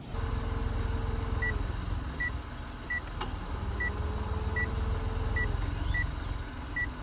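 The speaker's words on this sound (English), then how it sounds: "every single time you change the climate controls, do anything with the climate controls, they beep" Short electronic beeps from the climate control buttons repeat at irregular intervals inside a running car, over a steady engine and road hum, with a motor whirring briefly.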